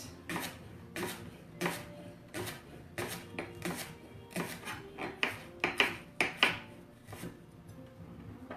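A knife chops through leeks on a cutting board in a series of sharp, close taps, starting steady and spaced, then quickening into a rapid cluster of cuts before slowing again.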